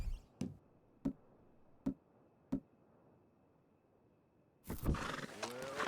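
A horse in Red Dead Redemption 2 gives a sharp, close whinny near the end, after several evenly spaced hoof-like knocks over a quiet background hum.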